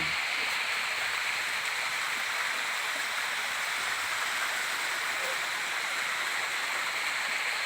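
Water pours steadily from a return outlet into a private resort pool in Lipa, Batangas, a constant even rushing splash that fills the whole stretch without pause.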